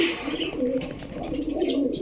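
Soft, low pigeon coos repeat in a steady rhythm close by, with faint rustling in the background.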